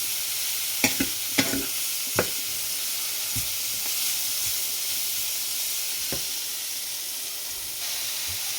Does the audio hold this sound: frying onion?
yes